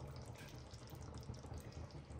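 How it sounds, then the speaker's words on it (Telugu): A faint, steady trickle of water is poured into a cooking pot, a soft continuous splash with no talking. "ఈ గిన్నెలో ఇంకా నీళ్లు వేసేసి అది కూడా వేసేద్దాం"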